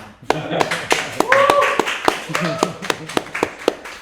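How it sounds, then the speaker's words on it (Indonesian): A handful of people clap in sparse, uneven bursts during a small talk-show style discussion, with voices talking over and between the claps. "Ya, tepuk tangan."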